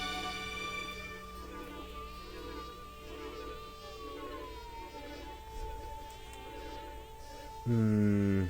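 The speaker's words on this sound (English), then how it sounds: "Fly sounds making me uncomfortable nonetheless." Buzzing fly sound effect in a song, a thin wavering drone heard faintly under the track before the music swells loudly at the end.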